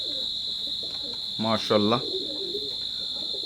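Teddy pigeons coo softly in low, rolling murmurs throughout, with a voice speaking briefly in the middle, close and louder than the birds.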